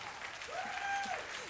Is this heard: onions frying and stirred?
no